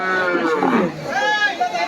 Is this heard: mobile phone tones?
no